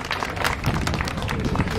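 Audience applause at a police and gendarmerie dog demonstration in Paris, steady dense clapping from a crowd with some murmured voices mixed in, lasting throughout.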